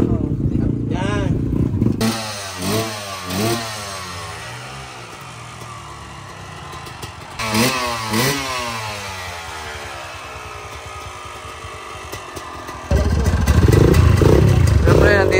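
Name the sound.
motorcycle engines running and revving at endurocross race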